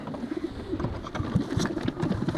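Breeding pigeons in a loft give low, repeated throaty coos, soft and close, with faint rustling behind them.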